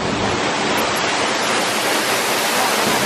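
A waterfall pours in a dense, continuous roar of broadband rushing water, loud and close, with no voices over it.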